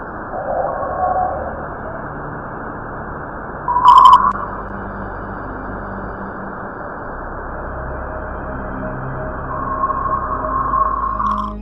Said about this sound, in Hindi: ये रही अब बुध ग्रह की आवाज। इस आवाज को ध्यान से सुनिएगा।